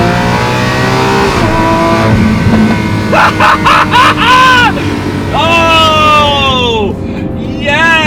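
The 6.5-liter V12 of a Ferrari 812 Superfast revs hard from inside the car with the rear window lowered, climbing in repeated loud, rising pulls and falling back between bursts, with a voice briefly over it.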